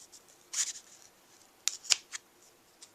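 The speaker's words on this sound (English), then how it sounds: "behind where I have the knot, I'm going to go ahead and cut this" Scissors snip through ribbon behind a knot on a handmade graduation card, with a few sharp, close cuts spaced irregularly over a quiet background.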